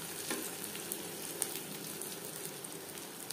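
Spiced fish fries in a pan with an even, crackling sizzle and light popping spatters that stay soft and continuous, with no voices.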